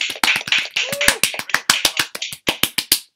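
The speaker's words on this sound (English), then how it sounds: "let's give them a round of applause" Round of applause from a small group during a podcast episode, steady bursts of clapping with sharp, closely spaced claps over about three seconds, fairly loud and close, with a cheer mixed in.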